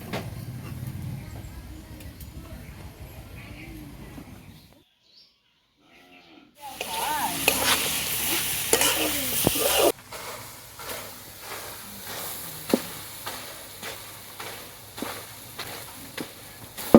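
Mashed green beans (yardlong beans) sizzle with a hiss in a wok. After a brief silence, a ladle scrapes and knocks repeatedly against the pan as the paste is stirred and lifted out.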